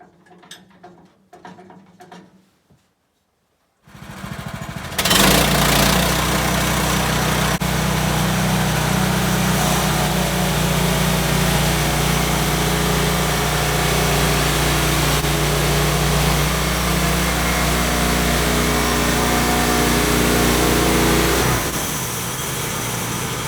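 A Woodland Mills HM130 sawmill cuts birch, pine and fir cants into boards, its engine roaring at a loud, steady, unbroken pitch for most of the stretch after a few quiet knocks, then easing off at the end.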